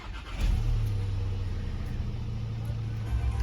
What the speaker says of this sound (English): car starts and runs